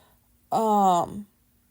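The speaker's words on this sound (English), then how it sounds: "Why are these cats meowing?" A single cat gives one clear, drawn-out meow that rises then falls, close and fairly loud, standing alone against a quiet room.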